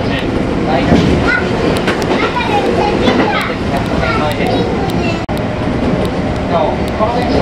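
Kintetsu Kashihara Line express train standing at Yamato-Saidaiji station, a loud continuous rumble of the train and platform bustle with announcements and voices over it, broken by one brief click.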